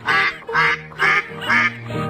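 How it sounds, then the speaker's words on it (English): Four evenly spaced duck quacks, loud and close, over a soft musical backing. "the sad mother duck"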